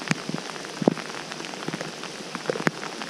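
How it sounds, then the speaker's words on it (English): Rain pattering on water, a soft hiss broken by scattered louder droplet plinks, close and continuous with no voices. "the fish are going to be freaked out by the raindrops on the water, the noise"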